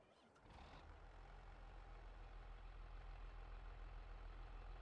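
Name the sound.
tractor engine starting and idling in Farming Simulator 22 video game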